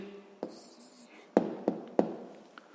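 A pen writes an answer on paper during a sixth-grade maths exercise, with a few soft taps and short scratchy strokes, close and quiet, one lighter stroke trailing at the end.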